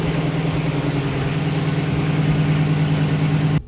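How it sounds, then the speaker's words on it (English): A cold-started 5.7 HEMI V8 in a Dodge Durango with 370k km idles steadily, a low even rumble running loud and close, alone with no talk, until it cuts off abruptly at the end. "After starting the engine again, when it was already cold,"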